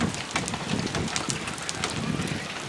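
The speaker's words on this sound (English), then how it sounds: "we got hail" Hail and rain pelting down during a storm in Knox City, Texas, a steady dense rattle of impacts with gusty wind noise across the whole span, no voices.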